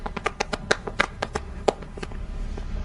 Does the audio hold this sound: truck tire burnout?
no